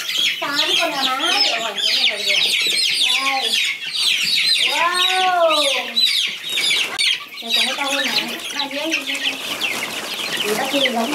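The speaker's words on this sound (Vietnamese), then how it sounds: "8 con gà mái." Hens on a rural farm cluck and call continuously and close by, with bursts of rising squawks and steady clucking throughout, mixed with other chicken chatter.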